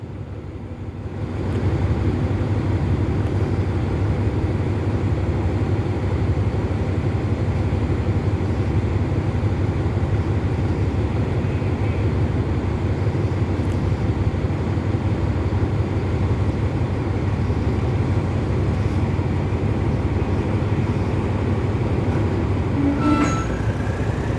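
Suburban train 313 pulls in to platform 6 at Bangkok's Hua Lamphong station in the evening, with a steady, loud rumble of wheels and carriages that keeps going without a break and a faint squeal near the end.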